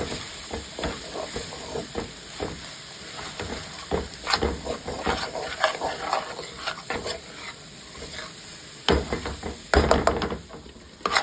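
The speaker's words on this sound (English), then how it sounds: "I'm going to saute these for about 5 minutes." Ingredients for Polish bigos sautéing in a pan, a steady soft sizzle with frequent spoon stirring and scraping knocks against the pan, up close with no talking.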